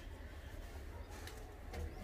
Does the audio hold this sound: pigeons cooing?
yes